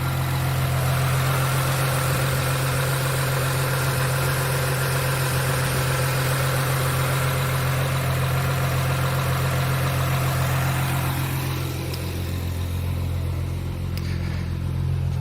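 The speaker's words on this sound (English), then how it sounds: "Engine still sounds nice and quiet." A 2003 Honda Accord with over 900k miles and a multiple-misfire fault idles steadily, a low constant engine hum with a faint even vibration, close and unbroken throughout, no voices.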